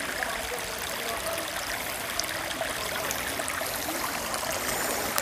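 River water flowing at Curug Luhur near Tanjung Lesung, Pandeglang, a steady broad rushing wash, close and continuous without pause, no voices heard over it.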